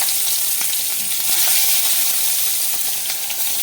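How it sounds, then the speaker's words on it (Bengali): Sliced onions sizzle lightly in hot oil for a fish curry, a steady broadband frying hiss with faint crackles, close and even throughout, no voices. "পেঁয়াজগুলো বন্ধুরা বেশি ভাজবো না, হালকা একটু ভেজে নেবো।"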